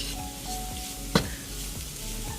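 Browned sausage and flour sizzle steadily in a pan over medium-low heat while a spoon stirs and scrapes, with one sharp utensil knock against the pan partway through.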